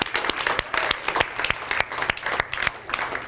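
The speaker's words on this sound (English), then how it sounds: "Please give another round of applause to my brother-in-law," Seminar audience applauds in a dense, steady clatter of many hands clapping, close and lively, with no speech over it.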